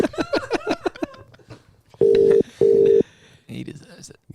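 A telephone call rings out while waiting for pickup, two long steady tones with a short gap between them, following a stretch of talk and followed by more voices.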